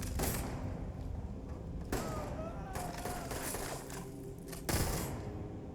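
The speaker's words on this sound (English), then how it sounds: "Something's shooting at us." Gunfire aimed at the player in the video game Starfield, with bursts of shots and heavy thumps against a busy, continuous game soundscape, a sharp loud burst near the end.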